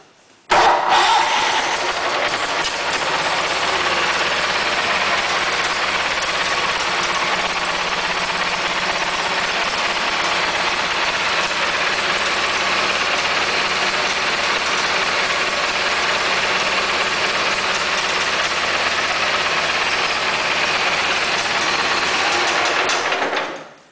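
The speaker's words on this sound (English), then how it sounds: "We might as well start this one up and listen to it." A garden tractor engine cranks and catches, then settles into a loud, steady idle that runs close and unbroken for about twenty seconds before cutting off.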